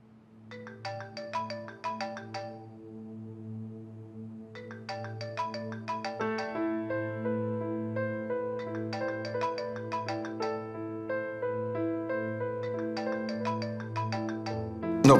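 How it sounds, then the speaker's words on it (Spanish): A telephone ringtone plays a bright, repeating electronic melody, looping steadily at moderate loudness with no voices over it. "¿No vas a contestar el teléfono?"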